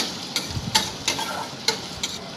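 Onions frying in a pan being stirred, a bright crackling sizzle punctuated by several sharp spatula scrapes and taps at an uneven rhythm, close up with no speech.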